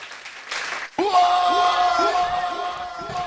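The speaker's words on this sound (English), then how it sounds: "Give yourself a round of applause for that" An audience at a poetry jam cheers, whoops and applauds loudly, a sudden burst of shouting and clapping that stays strong, with sustained yells rising over the crowd.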